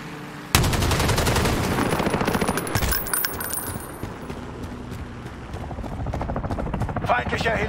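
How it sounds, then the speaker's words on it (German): An enemy chopper gunner helicopter in Call of Duty Modern Warfare team deathmatch fires rapid, loud bursts of automatic gunfire that start abruptly and rattle on, with a brief pause midway and more fire at the end. "Feindlicher Helikopterschütze im Anflug."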